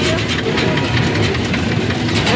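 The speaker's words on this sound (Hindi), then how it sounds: "देखो ट्रैक्टर आ गया" A tractor engine runs on a village road, a loud, steady low rumble that continues without a break, with voices faintly mixed in.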